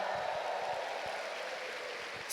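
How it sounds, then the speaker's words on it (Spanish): A church congregation applauds for the Lord: sustained, soft, fairly distant applause with a steady wash of clapping, ending in a brief brighter burst. "¿Cuántos le pueden dar un fuerte grito de júbilo y un aplauso al Señor?"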